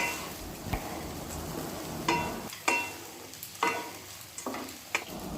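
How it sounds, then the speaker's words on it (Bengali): Sago and crushed roasted peanuts being mixed in a pan: about six distinct scraping strokes of a spoon against the pan, spaced irregularly over a soft background hiss. "এবার ভালো করে সব একসাথে মিক্স করে নিচ্ছি"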